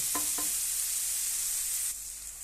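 Onion sizzles steadily in a hot frying pan as okra is added, with two short stirring scrapes near the start and the hiss dropping slightly toward the end.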